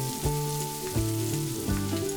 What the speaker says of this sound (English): fry it until the onion is nice and soft